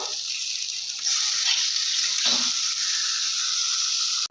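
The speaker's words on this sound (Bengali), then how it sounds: "আমার মশলাগুলো কিন্তু সব ভাজা হয়ে গেছে" Spices frying in oil in a pan for a masala egg curry, a steady bright sizzle holding throughout with a brief lower stir or clatter midway, no talking.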